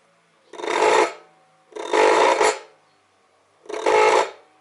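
An electric scooter motor with likely crossed phase wires makes three loud, harsh grinding bursts about a second apart, each rising and cutting off, with near silence between them.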